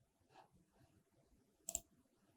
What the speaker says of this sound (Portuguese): Espera aí que eu acho que eu cliquei 2 vezes.